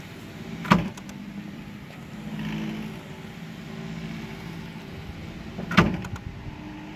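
A battery-powered tennis ball machine, running on low batteries, launches two balls several seconds apart on a court, each a sharp thump over a steady low motor whir.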